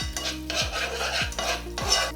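Vietnamese dipping sauce for spring rolls stirred in a hot pan with the heat turned off: about four rhythmic scraping strokes of a utensil against the pan over a faint sizzle, close and fairly loud.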